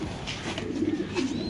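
Lahori pigeons, including baby pairs, coo softly in a cage, with low repeated throaty calls over a busy, noisy background.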